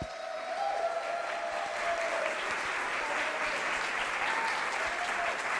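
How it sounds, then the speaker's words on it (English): An audience applauds presenter Damian Chapman at a fundraising event, a dense, sustained round of clapping that holds steady throughout. "really big round of applause for Damian."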